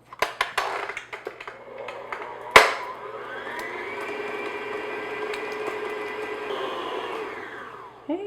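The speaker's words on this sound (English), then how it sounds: "I'm just going to beat this on low speed just until they get mixed together and they're nice and smooth" An electric mixer beats butter on low speed, a steady whirring drone that follows some clattering and knocking in the bowl.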